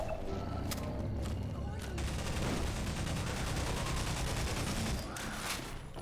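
Sustained automatic gunfire from Half-Life 2: Episode Two fills the scene, a loud continuous rattling fusillade with a few sharper individual shots, and voices talk faintly underneath.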